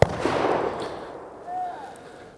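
A Grand Power Stribog SP9A3S 9mm roller-delayed blowback pistol fires a single loud, close shot that decays quickly into a short echo, with no talking over it.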